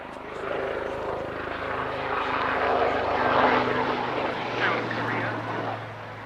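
A Lynx helicopter flies at the Cosford airshow, its engine and rotor noise a broad rushing roar that swells and fades over several seconds under a commentator's voice.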